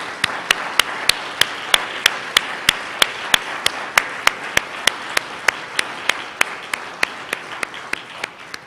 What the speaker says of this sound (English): Can we all just give him a round of applause?